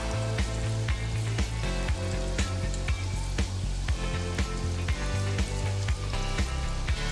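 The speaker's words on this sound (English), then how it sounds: "you want to make sure guys your oil is heating up. You want to be sure not to overcrowd your pot" Dumplings fry in hot oil in a pot with a constant bright sizzle, heard under loud rhythmic background music with a regular beat.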